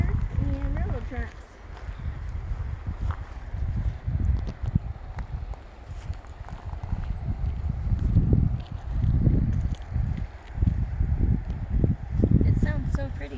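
Wind blows outdoors near a river and old railroad tracks, buffeting in low, gusty rumbles that rise and fall under a person talking throughout.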